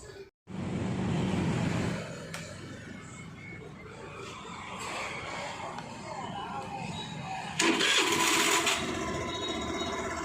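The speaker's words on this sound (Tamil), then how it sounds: "இப்போ வண்டியை வந்து ஸ்டார்ட் பண்ணி பார்க்கலாம்" A Hero Maestro Edge BS6 scooter with a low-pickup fault is started on the self-starter; the engine catches at once and runs at a steady idle with a brief rev near the end, while someone speaks over it.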